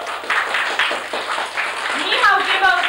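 Studio audience claps in a cable TV studio in Jelenia Góra, a dense run of hand claps under a presenter's talking voice, steady and close throughout.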